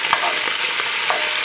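Beef browning in an All-Clad coated pan for a Moroccan tajine, with a steady dense sizzle and faint stirring scrapes running close and unbroken throughout, no voices.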